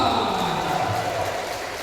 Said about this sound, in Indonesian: Tepuk tangan untuk keluarga kita